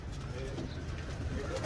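Pigeons coo softly in a rooftop loft, low murmuring calls running through a short stretch while someone talks over them.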